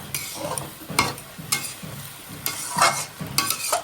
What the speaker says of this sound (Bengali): ভাজা ভাজা হয়ে গেছে মশলার সাথে এটা